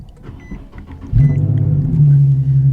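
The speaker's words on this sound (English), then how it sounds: "that exhaust is droning bad. That thing's got an awful drone to it." A car exhaust drones loudly in a low, steady hum that kicks in suddenly and holds, with engine rumble underneath and no voices.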